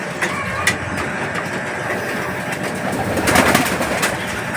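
A homing pigeon arriving back at its loft in Tiaong, Quezon, with cooing and wing sounds over a steady background of engine hum.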